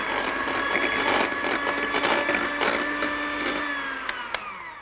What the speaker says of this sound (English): I'm just going to whiz that together now to mix it.